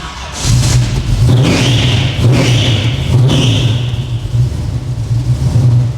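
Classic car engine with a Holley carburettor, around 600 horsepower, starting up and settling into a loud, close, lumpy idle with a steady deep rumble and a few throttle blips.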